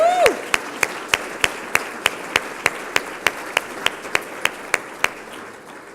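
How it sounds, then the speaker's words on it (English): Steady, evenly spaced claps ring out at an awards gala honoring HR leaders of distinction, sounding like a slow, rhythmic round of clapping from the audience, with a brief whoop at the very start. "Will you please rise and join me with a big round of applause?"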